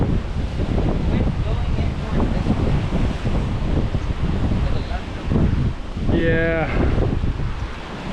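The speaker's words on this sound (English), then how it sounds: "The wind's a little strong." Strong wind buffeting the microphone outdoors on Guam near the sea, a loud continuous rumbling roar throughout, with someone speaking briefly.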